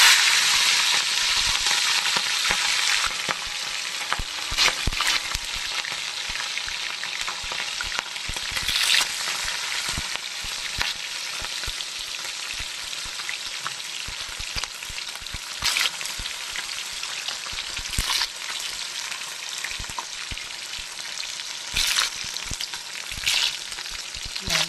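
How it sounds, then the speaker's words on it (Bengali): Small tangra fish fry in hot oil, a dense, loud, unbroken sizzle and crackle with sharp spatters popping at intervals throughout, close by and with no voices. "তো একে একে মাছ আমি ট্যাংরা মাছ দিয়ে দেবো তেলের উপর"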